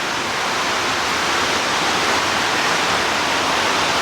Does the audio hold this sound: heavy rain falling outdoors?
yes